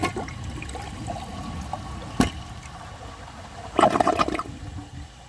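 A third flush on a 2012 Project Source high-efficiency toilet with a clogged, partly filled bowl: steady running and trickling water with a sharp clunk midway, then a louder gurgling rush near the end, close by with no talking.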